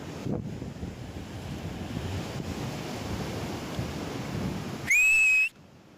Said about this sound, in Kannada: ನೋಡ್ರಿ ಸಮುದ್ರ ಅಲ್ಲೇ ಎಷ್ಟು ಜೋರ್ ಅದ ನೋಡ್ರಿ ಇಲ್ಲಿ